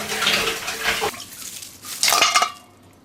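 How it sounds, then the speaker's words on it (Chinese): Abalone rinsed under running water in a kitchen: splashing water and light clatter of shells against a bowl in two short bursts, with no one speaking. "我先把鲍鱼先简单洗一下，待会儿再把它内部给它刷干净。"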